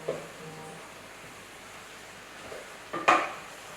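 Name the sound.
mixing gnocchi sauce ingredients in a pan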